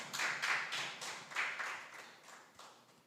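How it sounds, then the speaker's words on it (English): An audience applauds at an evening celebration after a national anthem performance, a moderate, slightly distant wash of clapping that swells in repeated bursts and slowly fades. "I think she deserves a round of applause."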